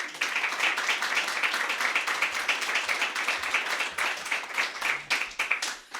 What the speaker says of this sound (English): Everybody please clap for Steph Harris.